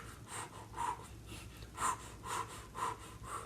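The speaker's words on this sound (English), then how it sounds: "so I'm breathing in and out through my mouth" Slow breathing in and out through pursed lips during a seated chair yoga exercise, close and soft, with about six airy breath pulses in a steady rhythm and no talking.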